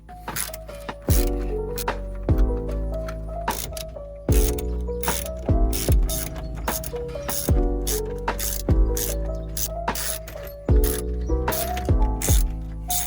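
A ratchet removes screws from a Ford Crown Victoria instrument cluster, giving repeated bursts of rapid clicking strokes, each a second or two long, with brief pauses between them, close and fairly loud.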